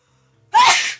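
One loud, close human sneeze bursts out abruptly after near silence and trails off within half a second.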